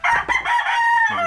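A native rooster crowing on a small farm, one loud close call held over a second, with faint clucking from other chickens around it.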